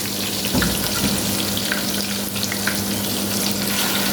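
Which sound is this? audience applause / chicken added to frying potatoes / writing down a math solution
chicken added to frying potatoes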